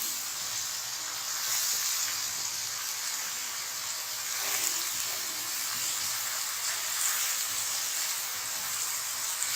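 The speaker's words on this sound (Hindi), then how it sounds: "प्याज को हमने दरमियानी आंच पर इतना फ्राई करना है कि हल्का सा कलर आ जाए" Onions fry over medium heat with a continuous bright sizzle and hiss, steady and close throughout, with faint stirring scrapes now and then.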